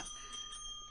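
Bells ring in a radio studio, giving a brief, steady metallic ringing tone that is faint and continuous.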